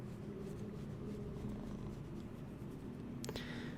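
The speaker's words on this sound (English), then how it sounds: "You want to purr directly into the mic for us?" A cat purrs softly and steadily right into a microphone, a faint continuous rumble ending with a brief scratchy rustle.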